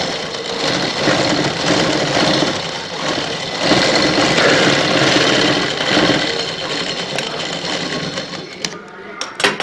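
A sewing machine runs a straight seam on a shalwar cuff, making a steady close mechanical whir while a voice talks over it.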